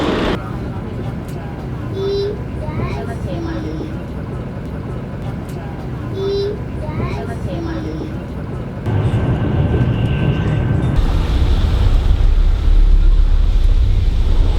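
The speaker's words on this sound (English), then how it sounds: "look at this bullet train." Steady low rumble of a high-speed bullet train in China, heard from onboard or close by, with voices talking over it and the noise growing louder and heavier in the second half.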